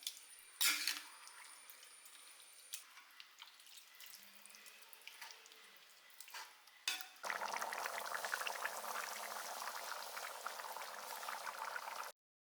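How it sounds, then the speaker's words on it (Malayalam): Chicken curry with coconut milk and masala bubbling in a pot, quiet at first with a few clinks, then a steady, louder simmering bubble filling the second half before cutting off abruptly. "നല്ലപോലെ ഇതൊന്ന് വേവിച്ച് ആ രണ്ടാം പാലും ആ മസാലയും ചിക്കനും എല്ലാം കൂടി ചേർന്ന് നല്ലപോലെ ഒന്ന് വേവിച്ച് കുറുക്കിയെടുക്കാം"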